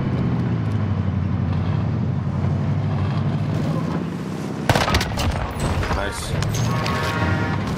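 SMG gunfire in the video game Warzone, bursts of rapid shots and impacts in the second half, laid over an engine-like drone and excited talking.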